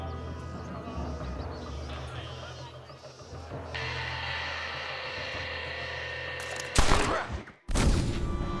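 Gunfire erupts in a Red Dead Redemption shootout, a dense burst of loud cracks near the end following a stretch of galloping horses and game ambience.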